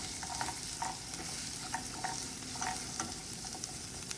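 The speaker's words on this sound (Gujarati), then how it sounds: "આપણે સાતળવા દઈશું ડુંગળીને." Chopped onion sautéing in oil with chillies, cashews and cloves for methi matar malai, a soft continuous sizzle with intermittent spoon-stirring clinks and scrapes, close but quiet.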